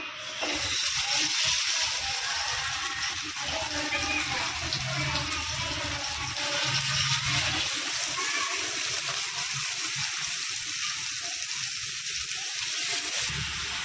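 Sankara fish frying in coconut oil on a tawa gives a loud, continuous hissing sizzle that holds steady throughout, with a voice speaking faintly underneath.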